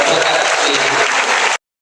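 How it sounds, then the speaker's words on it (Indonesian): A crowd at the closing ceremony of a church parish event in Nanga Taman applauds the organizing committee, dense steady clapping that ends abruptly after a second and a half, with a faint voice underneath. "Kita beri tepuk tangan untuk panitia rekan"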